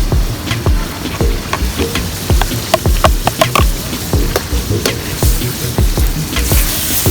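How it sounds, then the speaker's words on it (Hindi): Onion, ginger and garlic fry loudly for karahi gosht, a dense sizzle broken by a rapid series of sharp knocks as a spoon scrapes and taps the pan, close and continuous with no talking. "ये इसका फ्राई हो रहा है।"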